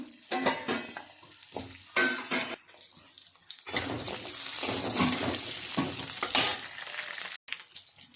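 Cut carrots frying in hot oil in a pan, with bursts of crackling sizzle and stirring scrapes that settle into a steady hiss, close and moderate in level.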